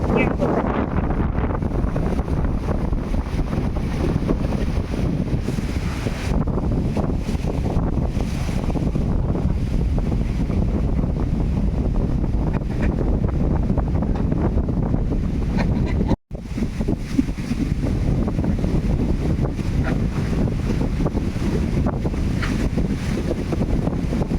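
Wind blowing hard outdoors on a stormy, rainy day, a continuous loud roaring rush buffeting the microphone, with one abrupt brief dropout partway through.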